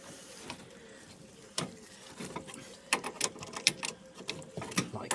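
Cold inlet pipe fitting being undone on a corroded, leaky Grant Blue Flame boiler, with faint scattered metallic clicks and scrapes, sharper tool clanks toward the end, quiet and close by.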